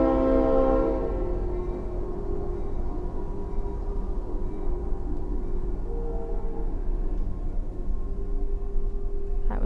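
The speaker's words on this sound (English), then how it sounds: "That was a very short train." A short train rumbles past steadily, with a brief horn blast at the start over a constant low roar that persists throughout.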